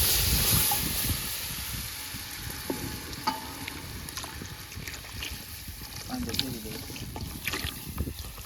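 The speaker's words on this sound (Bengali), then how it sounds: "এখন আমরা দুধ দিয়ে দেবো" Milk goes into a flour roux in a pan for white sauce, giving a steady sizzling bubble with intermittent stirring scrapes and small knocks at close range.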